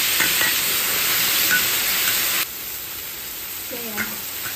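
Mushrooms stir-fried in a home kitchen with soy sauce give off a steady, close hiss of sizzling oil that drops slightly in level partway through, with faint scraping of a spatula and a brief voice in the background.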